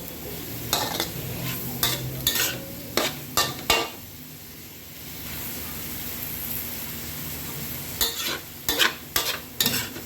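Catfish frying in a pan gives a steady, hissing sizzle throughout, broken by bursts of sharp utensil scrapes and clatters near the start and again toward the end, close by with no talking.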